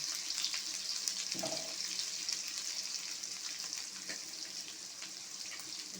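Crushed garlic fries in oil with peppercorns, cardamom and cinnamon, a steady soft sizzle and crackle close by, broken once by a brief scrape of a utensil in the pan.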